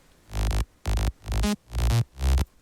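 Five short, thick synth bass notes play in quick succession in a progressive house mix without EQ, boomy and cluttered in the low end, muddying the sub.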